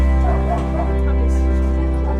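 An injured dog with a fractured jaw, a missing eye and heartworm lets out loud, close whimpers and yelps, dense and continuous throughout.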